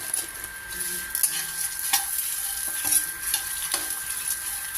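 Already-roasted peanuts rattle and scrape in a dry pan under a constant high hiss, with irregular soft clinks and stirring knocks.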